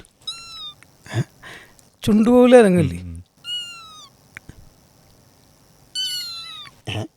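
A voice imitates a kitten's meows in short, high, wavering cries, with spoken words between them in a quiet room.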